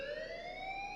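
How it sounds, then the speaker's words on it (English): An electronic alarm in the video game Life is Strange rings as a steady tone with bright overtones that glides slowly upward. It is short and clear, with no voices over it. "please turn off that alarm since that's your job"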